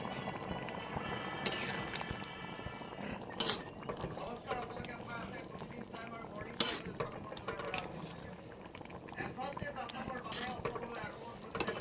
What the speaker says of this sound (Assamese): নহৰু পাতৰ লগত ধুনীয়া মিক্স কৰি দিছোঁ।